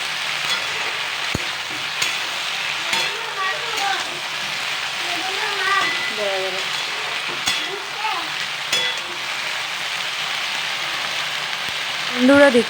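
Mixed vegetables for a Bengali curry fry in a pan with a steady, close sizzle and occasional stirring clatter, while a voice speaks over it intermittently.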